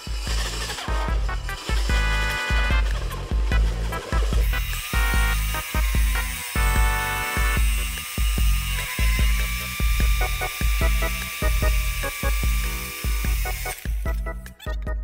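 A Bosun Z1Z-110B Plus core drill bores into concrete: a loud, steady motor whine with a rapid rhythmic chatter of hammering pulses that runs throughout and drops off near the end.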